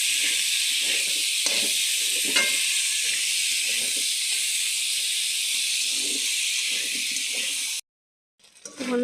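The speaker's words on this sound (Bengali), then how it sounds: "ভালো মতন ভেজে নিতে হবে।" Food sizzles hard in hot oil in a pan, a dense, loud steady hiss with small crackles, cutting off abruptly near the end before a little clatter returns.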